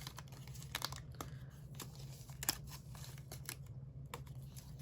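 Die-cut paper scrapbook pieces being popped out of their sheet by hand, heard as a series of brief, sharp snaps and crinkles at an irregular, quick pace, close and fairly faint over a low steady hum.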